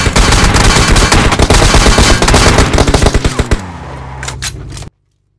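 Rapid automatic gunfire from the mobile battle-royale game PUBG Mobile, loud and close, sustained bursts of shots for several seconds that thin out into a few scattered final shots before cutting to silence.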